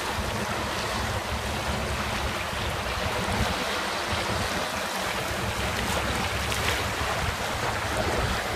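A sailing boat passes on the Clarence River, heard as a steady broadband wash of water and wind with low engine rumble from the cruising vessel, continuous and fairly faint, with no voices.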